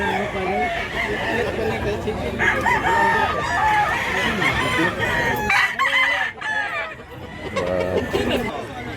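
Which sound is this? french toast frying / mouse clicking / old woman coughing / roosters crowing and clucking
roosters crowing and clucking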